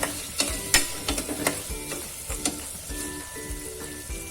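A spoon stirs red chili powder, coriander-cumin powder, turmeric, garam masala and salt in a pan for rasam, scraping and clinking in an irregular rhythm over a soft sizzle, close and clear with no talk.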